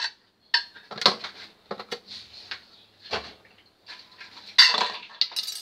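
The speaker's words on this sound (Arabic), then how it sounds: "وغادي نخلطهم مع بعضياتهم" Pastry filling is mixed in a pan with a spoon, giving scattered metallic clinks and scrapes in short bursts separated by brief silences, close by.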